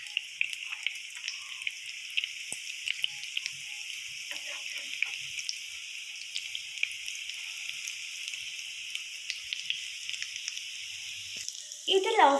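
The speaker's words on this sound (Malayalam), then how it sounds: "ഇത് ലോ ഫ്ലെയിമിൽ വെച്ചിട്ട് വേണം കുക്ക് ചെയ്തെടുക്കാം." A chicken cutlet frying gently in oil on a low flame, giving a soft, even sizzle and fine crackle throughout, with a brief clatter near the end.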